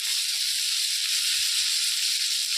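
Onions fry in mustard oil with five-spice and dried chilli in a wok, giving a steady, close, even sizzling hiss with no breaks.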